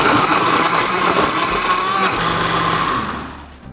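A blender grinds pear with kimchi seasoning ingredients and a few ladles of salt water, a steady whirring motor with churning that winds down at the end, no voices.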